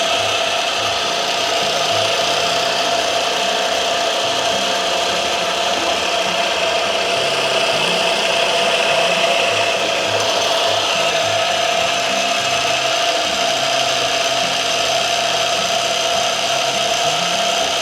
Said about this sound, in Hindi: इसी तरीके से हम सभी में होल कर लेंगे।